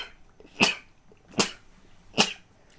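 Three short, sharp sneezes spaced evenly apart, close and clear against a quiet background.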